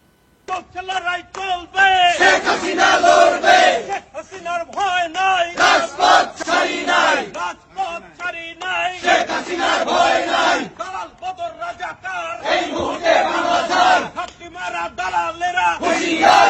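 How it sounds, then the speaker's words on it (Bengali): A crowd at a street procession chants slogans in loud rhythmic bursts, many voices shouting together in repeated call-like phrases with short pauses between, close and energetic throughout. "শিক্ষা ভবনের সামনে মিছিলের নেতৃত্ব দিছে খুনি হাসিনার পক্ষে প্রকাশ্যে স্লোগান দিছে"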